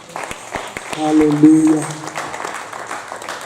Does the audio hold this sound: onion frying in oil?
no